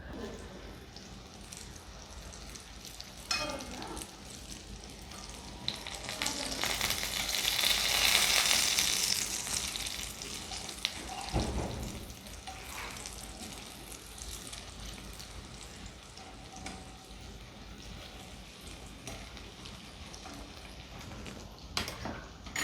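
Sweet potato and sprouts patties fry on medium-high heat in a pan, a soft steady sizzle that swells briefly louder partway through before settling to a low, crackling hiss.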